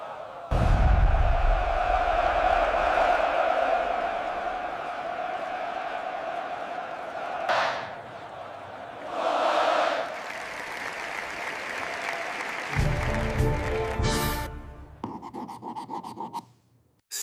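A crowd in an ultra-realistic Roman film about the fall of Julius Caesar cheers and applauds in loud bursts, swelling and fading several times with rougher shouts near the end.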